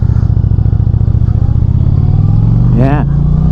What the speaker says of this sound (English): this exhaust from the get-go has a nice growl, a nice low rumble.